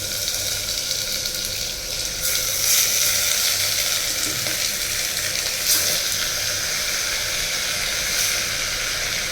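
Mutton sizzles and fries steadily in hot sesame oil, a continuous close hiss with occasional louder spits, no talking over it.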